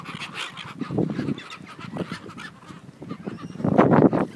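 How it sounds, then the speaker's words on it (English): A flock of seagulls gathered close around someone calls in a rough, overlapping chorus of honking squawks that swells louder toward the end. "I have my own little army of seagull."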